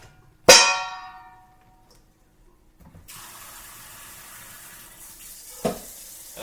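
A sink tap running water into a container for a home distilling setup, starting after a sharp clatter and a quiet pause, then a steady close hiss of flowing water with a brief knock near the end.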